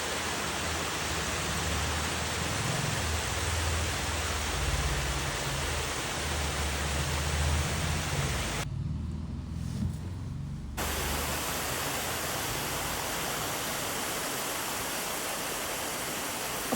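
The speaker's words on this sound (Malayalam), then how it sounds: "ഇവിടെ ഭയങ്കര ആ വെള്ളത്തിനൊക്കെ ഭയങ്കര പ്യുവർ സൗണ്ടാണ്" Steady rushing water of a stream in a village setting, loud and continuous broadband flow close by, dipping out briefly in the middle before returning, with no talk.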